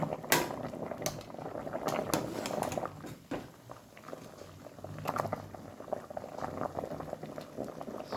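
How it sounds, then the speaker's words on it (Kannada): Bubbling and gurgling of cassava boiling in a pot, with irregular pops and knocking bursts, close and moderately loud. "ಚೆನ್ನಾಗಿ ಸೌಂಡ್ ಬರ್ತಾ ಉಂಟು ನೋಡಿ ಬೇಯ್ತಾ ಉಂಟು"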